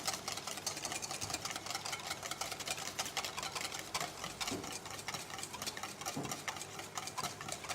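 Oil is mixed into mayonnaise with a steady, quiet whirring and churning that runs without a break, a soft even grind with no voices.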